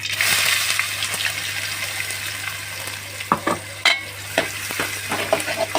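Onions go into oil with popping mustard seeds for a coconut kara kuzhambu, starting as a loud, steady sizzle that settles into frying while a spoon scrapes and knocks against the pan several times; no talking.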